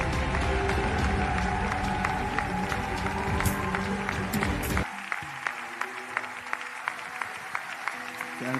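Church audience at Centre Missionnaire Philadelphie in Kinshasa applauds and cheers loudly to welcome apostle Yves Castanou, a dense crowd roar that suddenly drops midway, leaving scattered lighter claps and room noise.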